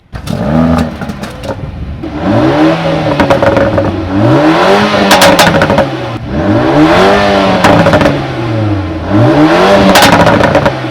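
Mercedes-AMG A35 4MATIC, 2024 facelift, revving repeatedly at standstill: loud, close engine rising and falling in several sweeping throttle blips, each climbing then dropping back, with crackle between them.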